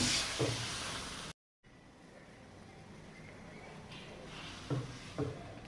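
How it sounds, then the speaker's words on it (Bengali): Tengra fish sauté in hot spiced oil, a soft continuous sizzle with occasional louder spatters and stirring knocks, steady and moderately close, with a brief dropout early on. "ট্যাংরা মাছগুলো আমি কষিয়ে নিচ্ছি।"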